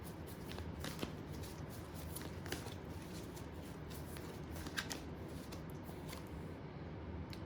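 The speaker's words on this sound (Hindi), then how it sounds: "मे बी एक कार्ड और निकालूंगी मैं अभी, फिर आपको बताती हूँ" Tarot cards are shuffled and drawn close up, giving a steady quiet stream of papery rustles and light flicks, with a few sharper snaps of single cards being pulled.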